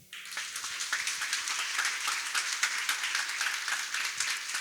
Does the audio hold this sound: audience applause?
yes